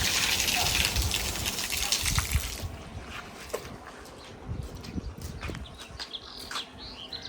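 Water gushing and splashing as it is poured out for a buffalo on a farm, loud for the first few seconds and then easing off, with birds chirping in the background.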